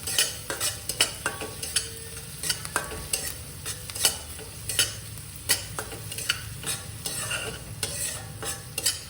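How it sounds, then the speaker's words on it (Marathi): Chickpea curry with hing and turmeric being stirred in a pan, a steady sizzle of frying under repeated scraping strokes of a spoon, close and moderately loud, no talking. "हे टाकून सगळं पुन्हा एकदा मी मिक्स करून घेते"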